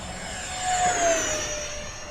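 An E-flite A-10 Thunderbolt II RC jet with twin 64mm ducted fans flies by at full throttle in a steep turn, a steady high-pitched whine swelling briefly as it passes and then easing off.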